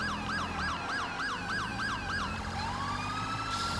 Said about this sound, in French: Je vais éteindre la sirène, parce que c'est chiant.